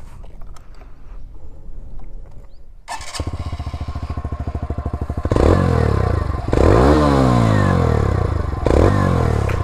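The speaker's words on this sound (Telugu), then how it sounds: "అండ్ ఇప్పుడు మనం వెహికల్ అయితే స్టార్ట్ చేద్దాము" A 2021 TVS Radeon 110 BS6 motorcycle engine cranks and starts after a quiet opening, then settles into a loud, steady single-cylinder idle with a few sharp revs close by, no voices over it.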